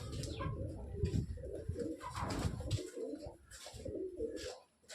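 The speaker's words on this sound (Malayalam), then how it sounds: "ഇത് വിവിധതരം പ്രാവുകളാണ്." Several pigeons of different kinds coo near a buffalo shed on a hill-station farm, soft rolling low coos overlapping in repeated phrases, fairly close, with faint outdoor ambience and a brief drop near the end.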